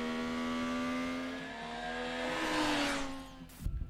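A Yamaha R9 sport motorcycle engine revs steadily at close range, its pitch climbing and wavering, then cuts off with a brief mechanical clatter.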